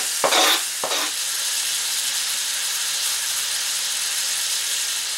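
Deer heart and onions frying in a pan over medium-high heat, a loud continuous sizzle with two sharp hissing bursts at the start as food hits the hot fat.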